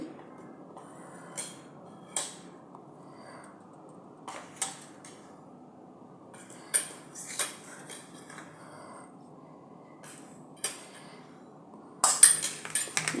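A spoon works through leftover rice cutlet mixture in a bowl, producing sparse, soft clinks and scrapes against the dish with quiet gaps between them, then a denser cluster of clatter at the end.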